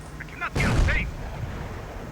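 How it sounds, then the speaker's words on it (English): Artillery bombardment in the Company of Heroes video game with a German Wehrmacht army: one heavy, booming blast with a rumbling tail over steady low battle noise and a brief faint whistle just before. "Oh, it's still bombarding that area."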